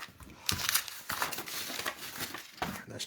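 Scrap paper is crumpled and crinkled in several bursts of loud, close rustling with brief pauses between them.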